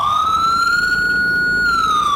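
A loud emergency vehicle siren in the video game EmergeNYC wails continuously, its tone sweeping slowly up and back down, close by and with nothing else heard.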